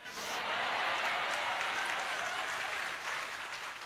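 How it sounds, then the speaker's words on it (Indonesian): Applause from a congregation during an Indonesian religious sermon: an even, sustained patter of many hands clapping, moderately distant and steady for nearly four seconds. "Jangan tepuk tangan dulu"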